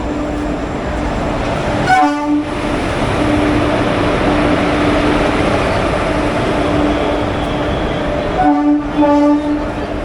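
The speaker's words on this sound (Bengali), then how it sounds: "মিথিলার পরপরই কুম্ভ এক্সপ্রেস 1 নম্বর প্ল্যাটফর্মে ঢুকলো" Kumbh Express pulling in at platform 1 of an Indian railway station, a loud steady rumble of rolling coaches broken by two blasts of the train horn, one near the start and another near the end, with no talk.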